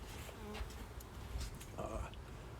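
Honey bees buzz softly around an opened hive during a frame inspection, a faint continuous drone with occasional louder passes of individual bees nearby.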